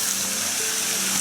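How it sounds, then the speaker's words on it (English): A small waterfall in Tonti Canyon at Starved Rock State Park in spring, a steady broadband rush of falling water that holds even and fairly close throughout, with no voices. "this waterfall doesn't really turn into anything, so that's a neat surprise"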